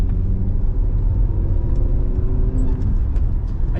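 A VW Caravelle T3 van with a 2.6 engine drives along an old road at moderate revs, giving a steady, close, low rumbling engine drone with no talk.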